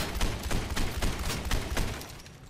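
Rapid gunfire in the Overwatch video game, a fast, regular string of punchy shots, about eight to ten in quick succession, loud and close, tapering off at the end.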